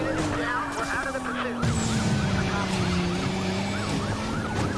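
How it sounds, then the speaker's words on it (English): In the Need For Speed Payback video game, police sirens wail in a European-style alternating pattern over the roar of a pursuit car, the sirens steady and moderately close. "these sirens sound very European"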